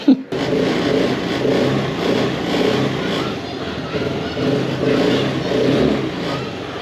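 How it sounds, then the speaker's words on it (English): A Honda Activa 110cc moped engine, still cold, runs and revs in a steady, close buzzing drone with gentle rises and falls, after a brief thump at the start. "It's a small moped, Honda Activa, and it's 110cc."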